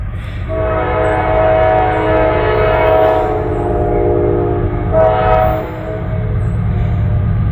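Fast trains roar past a quiet cemetery, with a loud sustained horn blast that echoes and swells twice over a constant rumbling rail noise.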